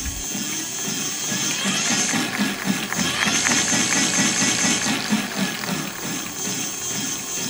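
An electric bike motor runs steadily as the throttle is moved, a continuous mid-pitched whir with a faint pulsing rhythm, close by and fairly loud.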